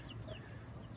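Grey hen in a farmyard clucking softly to call her chicks back in, a run of quick low clucks repeated close by, faint and alone with no talk.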